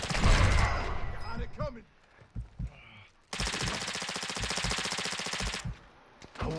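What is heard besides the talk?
gunfire in a battle royale video game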